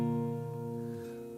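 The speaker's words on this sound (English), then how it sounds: "we're just going to do a single down strum for each one of those chords" A single down strum of a guitar chord rings out and slowly decays, faint and alone, with no talking.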